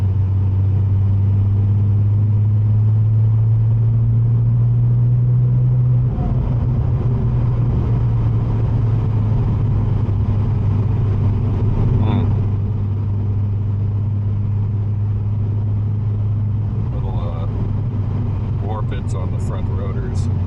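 Cabin of a Porsche 997 driving over bumpy corners: a loud, steady low engine drone and road rumble throughout, with a shift in tone partway, faint rattles and knocks from bumps, and brief chirpy sounds near the end.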